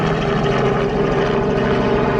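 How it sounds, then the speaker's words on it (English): A plane passes overhead near Kissimmee Airport in Florida, a loud, steady propeller-and-engine drone that fills the whole stretch with no talking. "We got a lot of planes and helicopters going overhead because the Kissimmee Airport is close by."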